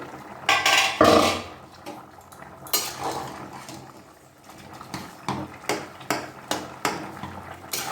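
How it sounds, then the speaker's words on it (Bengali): A metal lid lifts off a cooking pot of cauliflower ghugni with a loud clatter near the start, followed by scattered light clinks and taps of utensils against the pot, close by with no talking. "5 মিনিট বাদ ঢাকা খুলে দিচ্ছি"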